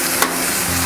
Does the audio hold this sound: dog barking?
no